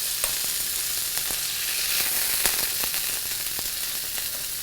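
Steaks searing in a hot skillet pan after sous vide cooking, a steady close sizzle with scattered pops and crackles and no talking.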